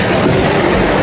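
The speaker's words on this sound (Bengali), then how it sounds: "ট্রেন দিয়ে দিয়েছে, জলদি করো কাস্টমার।" A train rolls into a station with a steady, close rumble and a faint clickety-clack of wheels on the rails, continuous and loud throughout.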